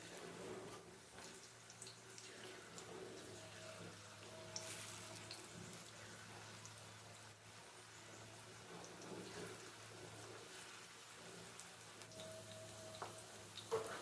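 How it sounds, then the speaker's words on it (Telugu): Dondakaya (ivy gourd) pakodas fry in hot oil with a faint, steady sizzling hiss that continues evenly throughout, with no voices. "ఈ పకోడీ దోరగా వేగనివ్వాలి."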